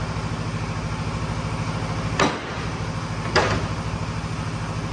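An air compressor runs with a steady, even hum and motor drone close by, broken by two brief knocks, with no talk.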